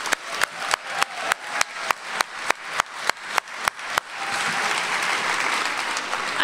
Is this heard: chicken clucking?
no